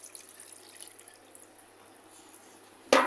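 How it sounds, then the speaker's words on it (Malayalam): Water is poured into a cooking pot for a fish dish cooked with dried red chillies and tamarind; a soft, quiet trickle runs underneath before a sudden louder splash near the end. "നമുക്ക് ആവശ്യത്തിനുള്ള കുറച്ച് വെള്ളം ചേർത്ത് കൊടുക്കാം."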